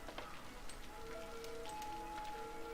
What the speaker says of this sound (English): I actually kind of like the rain in this game.